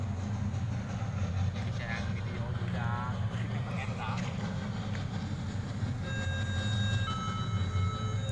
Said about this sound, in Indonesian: Miniatur kereta api.